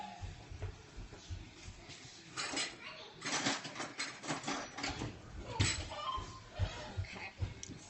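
A metal teaspoon pulled from a home kitchen drawer while preparing brown sugar for oatmeal packets, with a cluster of light clinks and rattles of cutlery and small knocks, close and fairly quiet.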